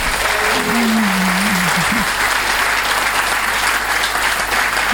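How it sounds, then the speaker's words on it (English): Comedy show audience at the Edinburgh Festival breaking into loud, sustained applause, a dense continuous roar of clapping with a brief voice heard over the start. "Give them a massive, massive round of applause."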